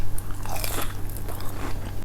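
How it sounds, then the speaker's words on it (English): A close, crisp bite into a fried squash blossom dipped in simple marinara gives a loud crunch, then soft chewing, with no talking. "Let's give this squash blossom a taste"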